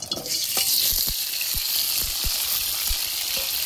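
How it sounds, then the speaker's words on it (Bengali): Potatoes sizzle loudly in a hot pan, a bright, steady crackle with several low thumps and scrapes as the pieces are stirred, close up and without any talking. "আলু ভাজা চলছে"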